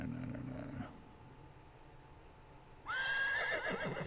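A horse whinnies loudly near the end, a rising then wavering neigh after a quiet stretch, with a brief low rumble at the start.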